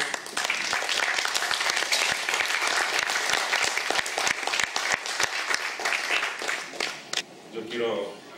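An audience at a book presentation breaks into loud, sustained applause to welcome a writer, the clapping dense and continuous before tapering off as a voice begins to speak.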